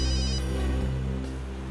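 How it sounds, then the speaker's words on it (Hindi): A telephone rings with an incoming call, a steady electronic ringtone repeating at moderate volume with no voices over it. "एसीपी साहब का फोन आ रहा है"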